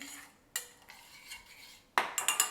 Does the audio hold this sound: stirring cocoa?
yes